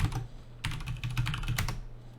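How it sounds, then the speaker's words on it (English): An email address is typed on a computer keyboard, with a brief burst of key clicks followed by a quicker, steadier run of close, crisp keystrokes over a low background hum. "I can type in an email address"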